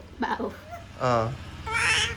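A voice imitates a cat, giving three separate meows with short pauses between them, close and fairly loud.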